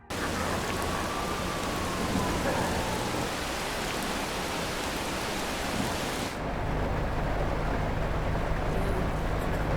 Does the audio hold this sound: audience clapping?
no